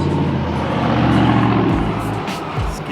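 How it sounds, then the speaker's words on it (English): A loud truck rumbles past close by outside, a heavy droning engine swelling and then fading over a few seconds. "Excuse the loud truck."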